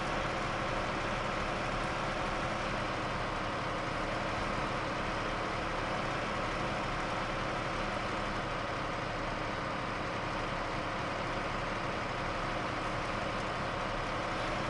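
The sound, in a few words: logging truck engine in the video game SnowRunner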